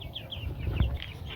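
Chickens kept on a rooftop garden cluck in short, repeated bursts at close range, over a low rumble of outdoor background noise.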